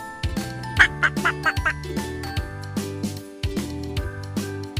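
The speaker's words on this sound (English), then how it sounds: "This is duck." A duck quacks repeatedly in a fast series of short, nasal calls, clear and close, with brief pauses between groups of quacks and no speech.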